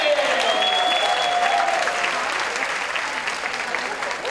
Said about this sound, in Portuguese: Mais palmas para Jaque Vivi e Vânia, senhoras e senhores!